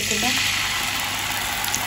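Chopped onions frying in hot oil in a pan for Odia-style aloo dum, a steady bright sizzle running throughout at moderate level.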